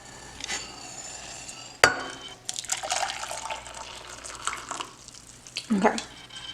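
Boiling water poured from a kettle into a measuring cup for a meal kit, a sharp clink followed by a few seconds of splashing and trickling pour, close and clear.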